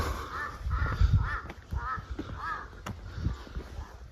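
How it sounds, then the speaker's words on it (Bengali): Crows caw repeatedly at a quiet, remote mountain viewpoint near Darjeeling, a steady series of hoarse calls, moderately near, over low wind rumble and with no talk. "এইসব পাখি পাখি ডাকছে"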